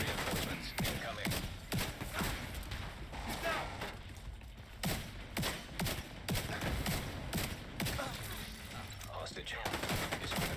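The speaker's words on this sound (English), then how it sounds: "Going in with constant fire." Sustained gunfire rattles through a firefight in the shooter game The Division 2, dense bursts of shots stacking up nearly without pause at steady loudness.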